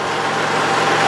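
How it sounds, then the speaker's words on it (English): Steady, loud tractor engine running as it pulls away from a detached WoodMaxx WM7600 backhoe, a continuous low rumble with no voices. "So now I'm going to pull the tractor away."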